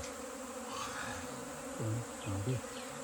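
Bees buzz around a honey hive in a constant, close insect drone, with a few louder low thumps and bumps toward the end.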